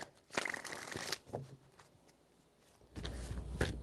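Tarot cards shuffled in three quick bursts of riffling and flapping, close and fairly quiet, separated by a stretch of softer handling with no talking.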